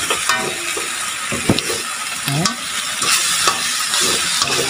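Food frying in a pan sizzles loudly and steadily while a utensil stirs it, scraping and clinking in short strokes close by, with no voices.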